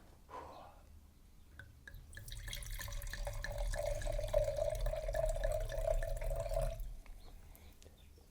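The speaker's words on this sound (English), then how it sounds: "the wine being poured into the glass" Wine pours into a glass in a close, quiet, steady stream lasting about five seconds, with a few soft drips before it and no voices.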